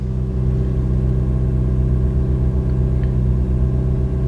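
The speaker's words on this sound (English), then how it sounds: "I'll let the engine start." Steady car engine rumble running close and constant, with a low idling drone and a faint rev lift near the end, no voices over it.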